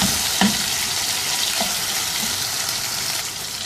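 Mutton karahi masala sizzles steadily in a pan as tomatoes and garlic-ginger paste fry and are stirred, a dense continuous crackle with occasional scraping of the spoon, close and fairly loud.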